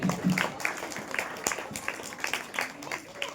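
Scattered applause from an audience at an annual prize-giving ceremony for a student, uneven claps at moderate level with a few sharp individual hits.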